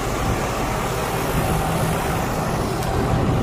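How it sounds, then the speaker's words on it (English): Diesel trucks and other traffic passing on a city street during a morning walk, a loud continuous low engine rumble and road roar that swells slightly toward the end. "Trucks, more diesel."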